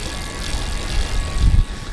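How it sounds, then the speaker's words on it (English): An Electric Bike Outfitters Mountaineer mid-drive e-bike motor runs while the rider pedals, giving a steady close-up mechanical drone with a low rumble and a faint whine throughout, with no talk. "I can still hear the motor"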